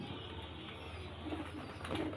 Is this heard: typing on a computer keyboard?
no